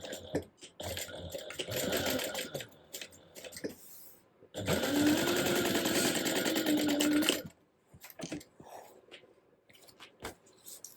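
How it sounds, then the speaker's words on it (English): A sewing machine bastes the side seams of a crossbody bag, running in two bursts of rapid stitching, the second longer and steadier, separated by quiet pauses with small handling clicks. "you can baste this together just along the sides at 1/8 of an inch seam allowance"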